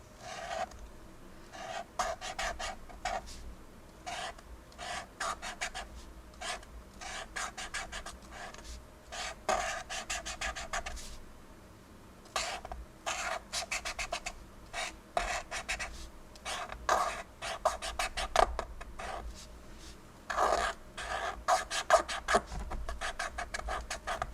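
A paint pen scratches across paper in quick, repeated strokes, a dry rasping texture that comes in uneven bursts, close and fairly quiet.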